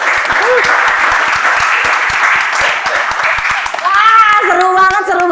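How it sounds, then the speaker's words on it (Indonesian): Audience applause at a live talk on surviving layoffs and the economy, a steady wash of many hands clapping from the start, with voices rising over it in the final second. "Tepuk tangan dulu"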